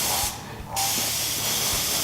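A dual action airbrush sprays paint onto marching snare drum parts, a loud, steady hiss that cuts out briefly near the start and then resumes and holds.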